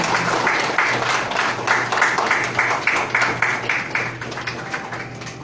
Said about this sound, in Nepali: ताली दिनुहोला ताली।